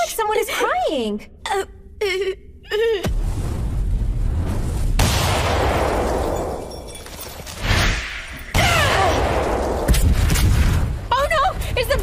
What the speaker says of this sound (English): Oh no! Is the building exploding?